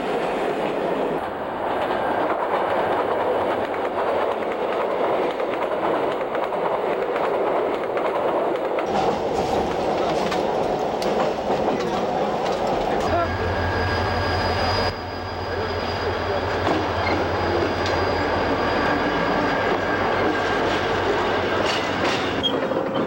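A military train carrying tanks rolls steadily along the rails, a continuous loud rumble with rhythmic clatter and occasional metallic squeal, shifting in tone midway through.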